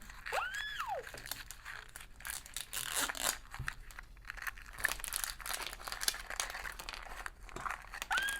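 Plastic wrapping on a surprise toy lollipop package crinkles and tears as it is opened up close, with continuous crackling and rustling throughout and no speech.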